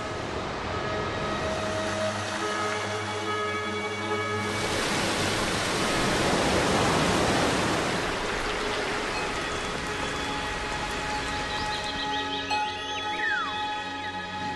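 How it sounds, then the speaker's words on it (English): A waterfall in Venezuela rushes down in a steady, dense roar of falling water, loud and continuous, swelling slightly in the middle with no voices. "This is the origin of the rain, which rushes down in countless waterfalls."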